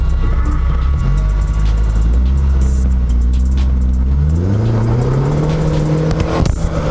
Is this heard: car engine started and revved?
yes